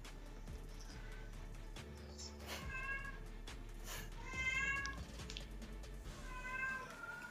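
A cat meows several times indoors in a room, with clear repeated calls at a moderate distance over the faint background of a mobile racing game stream.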